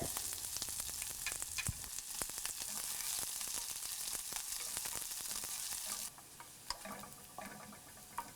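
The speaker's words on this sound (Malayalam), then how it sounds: "ഇതിലോട്ടിനി നമ്മൾ കട്ട് ചെയ്ത് വെച്ചിരിക്കുന്ന ചെറിയ ഉള്ളി ഇട്ട് ഫ്രൈ ചെയ്യാം." Small shallots frying in oil in a pan after mustard seeds have popped, a dense crackling sizzle that softens partway through, with a few light stirring clicks.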